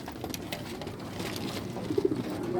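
Modena pigeons give soft, low coos near the end, faint against steady background noise.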